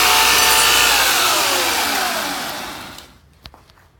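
A 2x72 belt grinder with a coarse-grit belt grinds steel off a file, a loud, steady rasping roar that sweeps through the cut and then fades out, leaving a few faint clicks.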